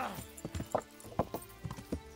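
Hooves of a ridden horse clip-clop in the medieval role-playing game Kingdom Come: Deliverance, a quick uneven run of close, moderately loud hoof strikes lasting a couple of seconds, with a brief whinny-like sound mixed in.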